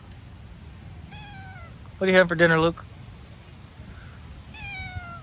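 A pet cat meows repeatedly at a full-time vanlife campsite around dinnertime, with rising then falling cries near the start and again at the end, between a louder burst of sound, while someone talks over a faint outdoor background.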